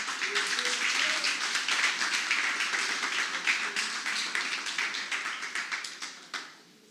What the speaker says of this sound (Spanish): Voy a darle un aplauso al Señor.